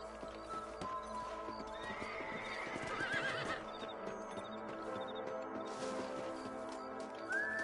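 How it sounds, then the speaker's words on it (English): Horses in the Red Dead Redemption video game whinny and neigh while hooves clip-clop steadily beneath, a long rising whinny standing out midway over a busy, continuous bed of game ambience. "Let's get back on the horses and see what else is going on."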